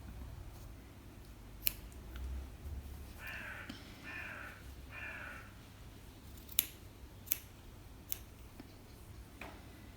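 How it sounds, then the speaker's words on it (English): Scissors snip the yarn ends of an amigurumi doll's little bows, in a few sharp, separate clicks spread across a quiet room with soft background noise and a brief muffled rustle partway through; no one speaks. "Now I'm just cutting the ends of the little bows."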